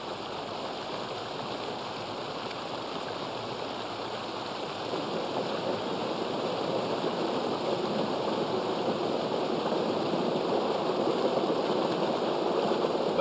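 Sockeye salmon fight upstream through a strong river current rushing around boulders, a steady broadband roar of water that swells slightly louder midway and continues without pause.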